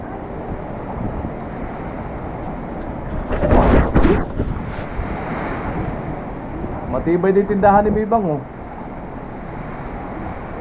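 Strong typhoon wind roars in gusts around a flooded house, swelling loudly near the middle and again later, with someone talking over it.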